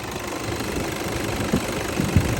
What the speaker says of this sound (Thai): ลองฟังเสียงเครื่องกันหน่อยครับ